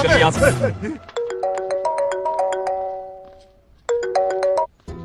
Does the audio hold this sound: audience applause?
no